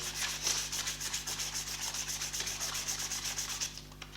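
Sandpaper rubs rhythmically on the wood of a handmade tissue box ukulele, a quick series of close, even scratching strokes that continue steadily and then stop near the end.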